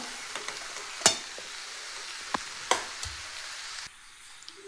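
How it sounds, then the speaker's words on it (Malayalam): Fish and mashed potato filling for fish cutlets being stirred in a pan, with a steady low sizzle broken by a few sharp scraping taps of the spoon against the pan, then a brief quiet before a final scrape. "നമ്മൾ കിഴങ്ങും മീനും എല്ലാം നന്നായിട്ട് മിക്സ് ചെയ്ത് കൊടുത്തിട്ടുണ്ട്"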